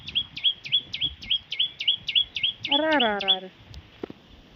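A sparrow chirps in a quick, even series of short sharp notes, close and clear, followed by a brief lower wavering call and a faint click.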